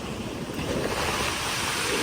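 Sea waves wash onto a beach in Biliran Province, Philippines, a steady close roar of surf mixed with gusty wind buffeting the microphone, filling the whole stretch without voices.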